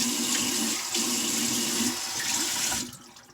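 A bathroom tap runs into a sink while a face is rinsed after a shave, the steady close rush of water with splashing from cupped hands, then the flow quiets near the end.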